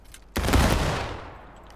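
A rank fires a musket volley in the game War of Rights, one sudden loud crashing burst of near-simultaneous shots that rolls into a decaying echo over about a second.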